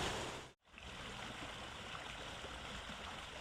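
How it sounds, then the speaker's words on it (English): An open bypass culvert on the Coventry Canal gives a steady, close wash of bubbling, rushing water, broken by one brief dropout near the start, with no voices. "here's the bypass still, bubbling away to itself"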